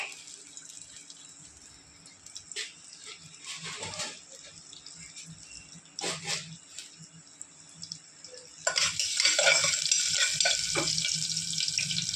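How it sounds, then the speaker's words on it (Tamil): Cumin and ginger frying in a pan sizzle with a soft, scattered crackle that swells into a louder, denser hiss in the latter part, with faint clinks and background noise. "இஞ்சி போட்டு நல்லா கொஞ்சம் பொரியட்டும்."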